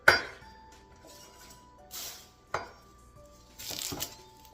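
An inexpensive Acero knife chopping a shallot on a board, a few sharp separate knocks with ringing clinks, spaced roughly a second apart.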